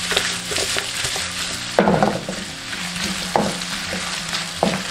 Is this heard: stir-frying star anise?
yes